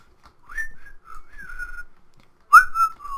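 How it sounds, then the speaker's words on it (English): A person whistles a short tune directly into a microphone, loud and close, in wavering melodic phrases with a brief pause before a final sharper burst. "I whistled on a mic."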